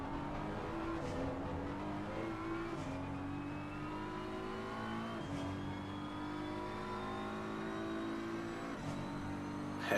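Three BMW race cars in Assetto Corsa Competizione running close together at Paul Ricard during a six-hour endurance race, engines droning steadily with rising and falling pitch as they shift through gears, loud and continuous throughout.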